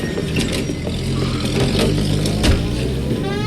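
A car pulls away and accelerates in the crime game L.A. Noire, its steady engine drone holding fairly loud and close for a few seconds with a brief bump in level midway, alone without speech.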